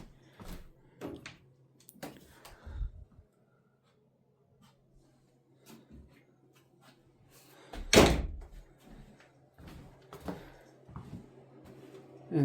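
A closet door in a bedroom of an old mountain-top cabin bumps and clunks in a few scattered, fairly close knocks and thuds with quiet pauses between, one sharper thump standing out midway.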